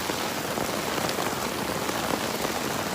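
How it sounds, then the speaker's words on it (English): Steady rain falls on open ground, a dense even hiss of drops close by with no letup and no voices. "show people what it's like when it rains"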